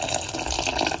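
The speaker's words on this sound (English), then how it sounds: "Little bit of hot water." Hot water pours steadily into a container while a beet juice drink is being made, a continuous close splashing stream with no pauses.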